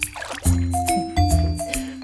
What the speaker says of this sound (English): Listen to the sound. Swish, swish, swish.